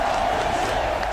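Arena crowd in the WWE 2K24 wrestling game, a Chicago audience reacting in shock: a steady, loud wall of roaring and cheering voices held throughout, with no talk over it.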